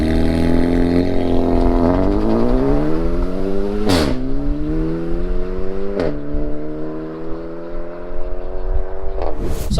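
A car rolls along on Yokohama Advan Neova AD09 tyres, its engine droning loudly and steadily as it pulls away and climbs through the revs, with gear changes at intervals and a brief louder burst at the very end.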